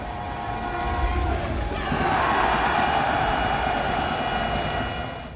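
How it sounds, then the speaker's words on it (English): A large arena crowd at a pro esports match roars in a swelling, sustained wall of cheering that builds for a couple of seconds, holds loud, then begins to fade. "Just look at the crowd's insane reaction to this play"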